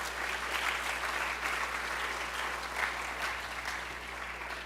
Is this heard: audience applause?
yes